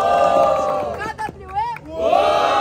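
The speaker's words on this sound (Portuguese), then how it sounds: "Barulho pra quem gostou das rimas do KWE" Crowd at a Brazilian freestyle rap battle, Batalha Tucuruvi, roaring and shouting in a dense, loud swell with whistle-like cries rising over the din, dipping briefly before surging again.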